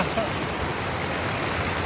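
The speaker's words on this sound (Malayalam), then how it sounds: "ഇതാ വലിയൊരു പുഴയാണ്" A large river flows in a steady, even rush of water, close and moderately loud, with no other sounds standing out.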